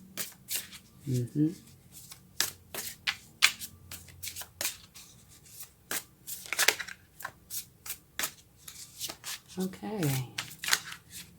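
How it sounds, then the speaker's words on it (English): Playing cards are shuffled again and again in quick crisp bursts, close by, while a person murmurs a few brief words. "Now, when I keep shuffling, it's because it doesn't feel right."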